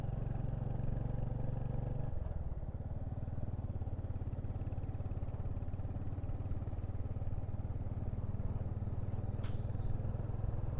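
A Royal Enfield Hunter 350 motorcycle is ridden on an evening road, its engine a steady low thump and rumble that shifts in tone early on, then carries on evenly and close up, with no talking.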